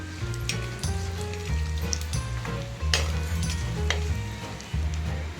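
Fennel seeds, cinnamon sticks, cloves and a bay leaf sizzle and crackle in hot oil for a chicken gravy, with scattered sharp pops and a low steady bubbling, close and fairly loud, occasionally stirred.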